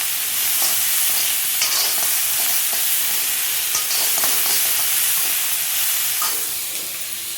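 Potatoes, carrots, onions and peanuts frying in a pan for poha, a steady close sizzle with soft stirring scrapes throughout and no talking.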